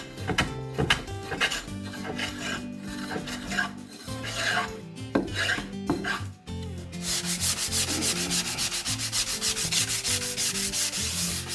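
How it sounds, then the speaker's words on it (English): Hand sanding with sandpaper along the chamfered edge of a wooden study desk, a steady run of loud, close rasping strokes that quicken into a continuous dense scrubbing in the second half. "Finally, I sandpaper it by hand to ensure a smooth touch."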